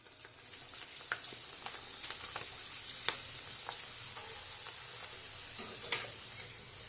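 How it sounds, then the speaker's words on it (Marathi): Sabudana potato chakli frying in hot oil give a steady, close hiss and bubbling crackle, with occasional sharper pops and light utensil taps throughout, no talking. "5 चकल्या ह्या तेलामध्ये टाकते आणि तुम्ही पाहू शकता लगेचच छान अशा ह्या चकल्या फुलत असतात"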